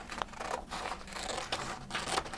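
Scissors snipping off an excess strip of folded paper for a snowflake craft, a few crisp rasping cuts close to the microphone with short pauses between them, no voices.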